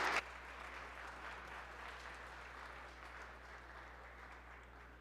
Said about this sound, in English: If everybody can give him a round of applause, I'd appreciate it.